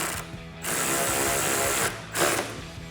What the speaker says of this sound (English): Let's go ahead and grab our 10mm socket and tighten these down.